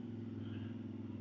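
A motorcycle engine running steadily during a ride, a low, even rumble heard briefly and faintly.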